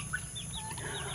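A turkey being fed gives a few soft, faint clucking and gobbling calls in a brief outdoor moment, with no one speaking.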